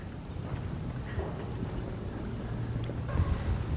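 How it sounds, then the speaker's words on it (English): An outdoor breeze on a cool walk makes a steady low rumble of wind buffeting the microphone, broadband and moderately quiet, gusting slightly toward the end. "Wow, nice breeze."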